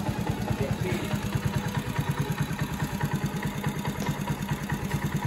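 A fuel-injected Honda S90 motorcycle engine idles close by with an even, rapid putter, a steady pulsing chug with some mechanical clatter that holds throughout.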